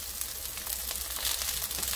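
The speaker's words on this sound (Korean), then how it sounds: "여기에 마늘 한 스푼 들어갑니다" Shishito peppers frying in a pan with a spoonful of garlic added, giving a steady, close hiss and sizzle throughout with faint stirring crackles.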